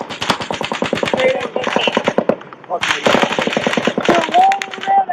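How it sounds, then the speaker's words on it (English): Rapid bursts of fully automatic gunfire from an elevated position rattle in long strings of sharp, loud shots, pausing briefly between bursts, with faint voices underneath. "it is automatic fire, fully automatic fire from an elevated position"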